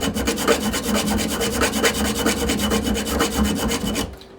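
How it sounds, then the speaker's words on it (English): Leatherman Wave multitool file scoring a nut, a rapid rhythmic rasping of metal on metal, close and steady for about four seconds before stopping abruptly. "So I'm going to take my file, the file side right here, and just going to put it up against the actual nut here, and I'm just going to score it real quick."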